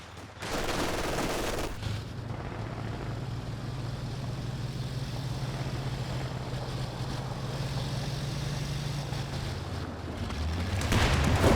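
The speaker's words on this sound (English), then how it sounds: "Enemy infantry firing on us." Infantry gunfire in the Company of Heroes 2 video game: a dense, continuous rattle of distant small-arms fire over a low engine-like rumble on the battlefield, with no talking.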